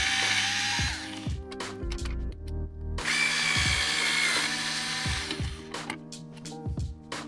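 A cordless power driver fitted with a Torx T15 bit runs in repeated short whirring bursts, each spinning up and winding down, as screws come out of the interior trim of a Tesla Model Y or Model 3, close and loud with no talking.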